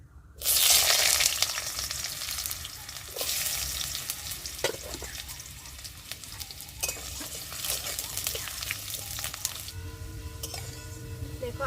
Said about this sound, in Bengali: এবার এই তেলে কিন্তু আমি আলুগুলোকে ভালো করে ভেজে নেব।